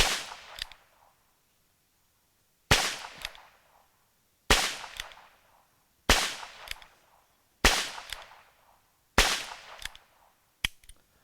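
Six loud, sharp Ruger Wrangler revolver shots fire one at a time at a steady pace about a second and a half apart, each cracking close by and fading quickly, followed by a faint click.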